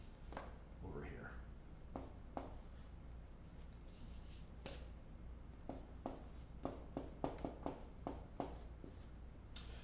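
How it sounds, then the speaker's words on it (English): Marker or chalk strokes on a board during a statistics lecture come as a series of short, quick scratching taps, denser toward the end, close and fairly faint, with a voice talking over parts of it. "let me write it over here"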